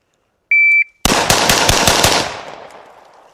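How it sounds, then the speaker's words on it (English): A timer beep, then rapid gunfire from a Girsan CMXX pistol during a low-ready drill: a quick string of about seven loud, close, sharp shots fading into echo. "That first shot got a little low there."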